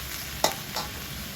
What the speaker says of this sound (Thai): ใส่แล้วเราก็ผัดเหมือนเดิมค่ะ ผัดไปง่าย ๆเลยนะคะผัดไปเรื่อยๆค่ะ